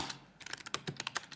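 Quick, irregular clatter of keys on a computer keyboard as search keywords are typed into a job-search tool, close and clear with no talk over it.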